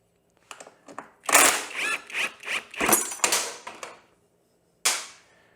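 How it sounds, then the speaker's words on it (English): Rapid clattering metallic snaps and rattles from a Honda CRF450R motorcycle kickstand spring coming loose, in a dense burst of sharp clicks followed by one final snap after a short pause. "All that noise was the kickstand spring coming loose."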